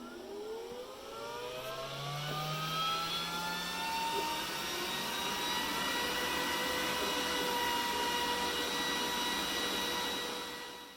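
A Glowforge laser cutter engraving initials onto a desk organizer, a steady loud whirring hum with rising and falling whine tones from its fans and moving head, continuous and close for the whole stretch.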